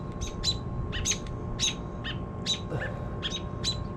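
Several birds chirp in quick, repeated bursts close by as parent birds call near a rescued baby bird, bright short tweets spread evenly over steady low background noise.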